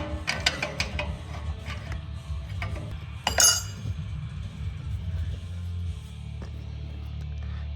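A 7/8 wrench works loose an O2 sensor on a 2012 Jeep Liberty, giving a few sharp metallic clicks and clinks over a low background hum, close and fairly quiet.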